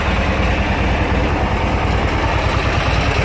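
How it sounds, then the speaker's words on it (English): A Briggs opposed-twin engine revived from a junkyard runs at a steady, loud idle, with a dense, even chugging drone up close and no talk. "got a good running Briggs."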